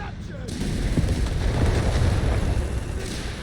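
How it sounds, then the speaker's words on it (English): Nebelwerfer rocket artillery and other guns firing in Company of Heroes 3, a sustained rumbling barrage of launches and blasts rolling on for several seconds with no talk. "There's a number of Needlewerfers, some firing much larger rockets."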